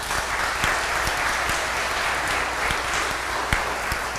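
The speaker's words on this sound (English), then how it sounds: "One more round of applause for Ron." Audience at an evening Spanish organ concert in Mission San José applauding the organist, a steady full round of clapping with a few sharper individual claps standing out, loud and close.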